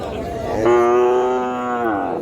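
A calf at a native cattle market lets out a single loud, close, drawn-out moo that swells and then fades over about a second and a half.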